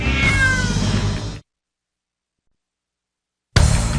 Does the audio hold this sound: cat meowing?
yes